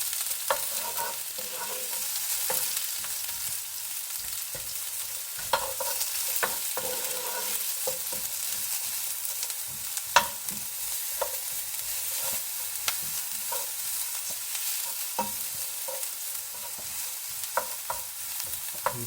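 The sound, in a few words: curry leaves and onions frying and being stirred in pan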